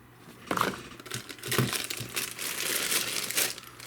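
Crinkly plastic packaging on a new Cherokee CM10 radio rustles and crackles up close during unboxing, in irregular bursts of crumpling across a few seconds.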